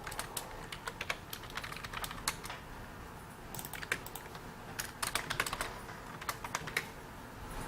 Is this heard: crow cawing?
no